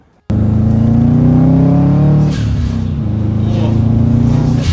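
A turbocharged car engine, freshly fitted with turbo oil feed and return lines, roars to life abruptly and revs loudly up close, climbing in pitch, dropping back, then holding a throaty idle.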